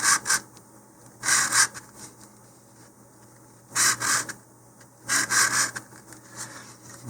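Rasping scuffs of sandpaper against the glossy finish of a model rocket body tube, coming in four short bursts of rubbing with quiet pauses between them, close up and without any talk.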